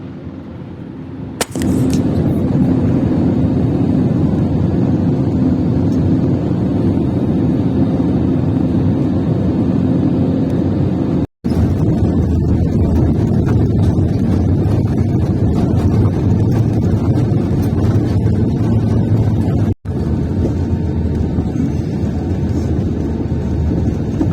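Steady loud roar inside an Air India airliner cabin on descent and landing at Chennai, with a sharp click early on and two brief dropouts in the droning engine and air noise.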